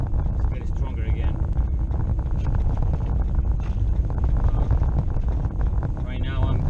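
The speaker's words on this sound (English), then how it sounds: "The wind is picking up again. It's getting stronger again." Strong wind blows steadily beside a road, a constant low buffeting roar across the mic with a voice heard at times.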